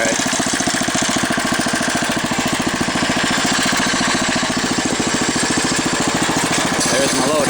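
A homemade tractor's engine runs steadily nearby, a loud rapid chugging rhythm that holds throughout, with a voice talking over it.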